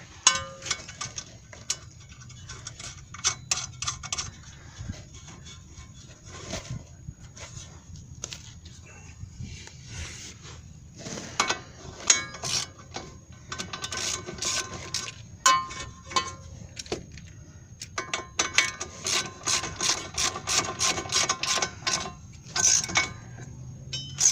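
Ratchet tightening a new nut on a tie rod end, heard as bursts of rapid clicking strokes spread through the clip and separated by pauses, fairly close, mixed with other faint clanks and a quiet background.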